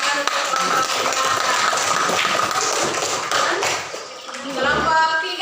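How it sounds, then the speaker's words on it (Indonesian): Classroom applause for a student group, a dense patter of many hands clapping together, fairly loud and continuous, fading briefly before a voice speaks at the end. "berikan tepuk tangan untuk kelompok tiga"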